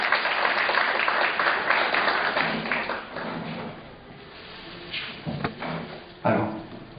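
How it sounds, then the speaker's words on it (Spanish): An audience at an evening municipal event claps to welcome a speaker, Dr. Juan Carlos Benavente; the clapping is fairly strong at first, then thins into scattered claps and a few sharp knocks. "Lo recibimos con un fuerte aplauso,"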